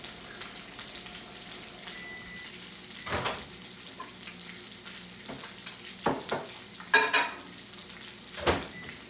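Green beans cooking in a pan of hot oil, a continuous sizzle with sharp pops and splatters breaking through at irregular moments, no talking.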